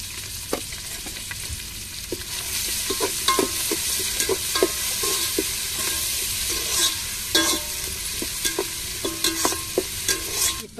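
Chilies and stone-ground ginger-garlic paste fry in hot oil with a steady close sizzle, broken by sharp scraping and clinking stirs of a spoon against the pan throughout.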